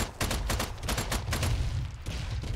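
Rapid sustained gunfire in the co-op shooter Strange Brigade, dense bursts of shots firing in quick succession, loud and continuous without pause.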